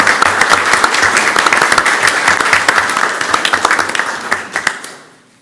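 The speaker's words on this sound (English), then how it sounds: "So can give them a round of applause also." A crowd at a council meeting applauds loudly with dense, sustained clapping that thins to a few scattered claps and fades out near the end.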